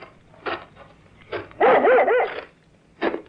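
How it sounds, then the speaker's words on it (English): An excited dog barks in short bursts from a radio drama scene, a few separate yaps then a louder cluster of rapid barks mid-clip, with no talking over it. "what's the matter with your dog? Oh, he seems to have found something ahead there."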